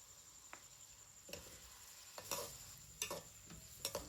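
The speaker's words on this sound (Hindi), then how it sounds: "एक मीडियम साइज का प्याज डालकर 2 मिनट फ्राई करेंगे।" Chopped garlic and a medium onion fry gently in a quarter cup of oil, giving a soft continuous sizzle, with a few scraping stirs and clicks of the spoon against the pan.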